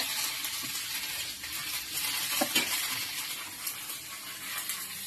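Mustard seeds, green chillies and curry leaves sizzle steadily in hot oil for a chicken curry, a close, continuous frying hiss with a few brief pops and stirring clinks.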